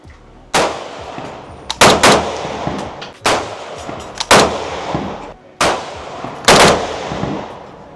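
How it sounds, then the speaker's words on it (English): AK-47 rifle shots crack loudly at the Cu Chi shooting range, about eight sharp reports in irregular pairs and singles, each trailing off into a reverberant decay. "How often do you get the chance to fire an actual gun?"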